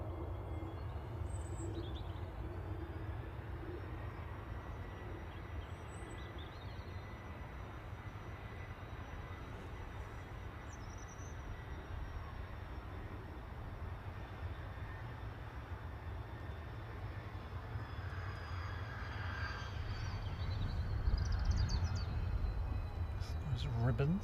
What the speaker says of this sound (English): This is Kuwait 113, A330 900 Neo